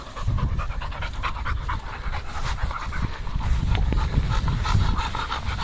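A big, furry dog pants steadily and quickly nearby outdoors on a nature walk, with rapid rhythmic breaths continuing throughout.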